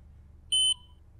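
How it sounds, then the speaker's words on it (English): A blood glucose meter gives a single short electronic beep, warning that no blood drop was applied in time before it turns off, clear and alone over faint room hum. "If you don't apply a drop in time, the meter will beep and turn off."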